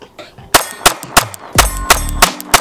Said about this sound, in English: Time for a quick mag dump.